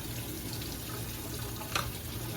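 Tap water running steadily into a kitchen sink while broccoli is prepped for freezing, a soft continuous splashing stream heard up close with no talk.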